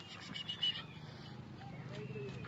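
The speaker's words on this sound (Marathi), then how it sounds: "हा बाणा येते घोडा घेऊन मागून" A horse led along a mountain ghat road on a pilgrimage trek at Shingroba Ghat, heard faintly with a brief snort or whinny and soft hoof sounds amid quiet outdoor ambience, with a voice nearby.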